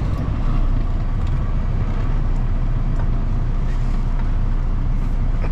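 A semi truck rolls slowly onto a weigh scale, its diesel engine giving a steady low rumble with road and cab noise at a constant level throughout.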